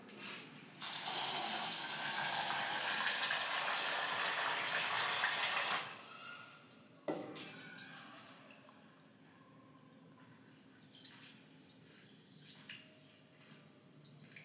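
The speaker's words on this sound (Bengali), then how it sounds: "চাল ধোয়া চলছে" Rice being rinsed under a running tap in a home kitchen: a loud gush of water for several seconds, then the flow cuts off, followed by quieter splashes and clinks of grains and container.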